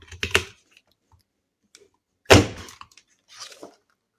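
A 6-inch paper punch working through the corners of paper, making three separate sharp crunching punches with quiet gaps between them, close and alone.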